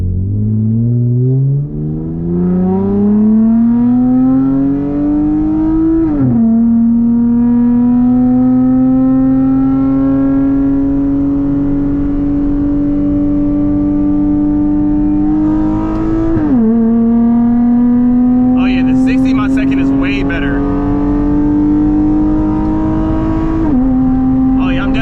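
A drag-racing car with a transmission tune accelerates hard, its engine climbing steadily in pitch through several gears, with three sharp drops at the upshifts, loud and close throughout.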